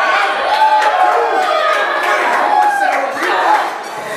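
A wrestling crowd at a live arena match roars and chants loudly and continuously, a dense wash of voices that swells and dips without pause.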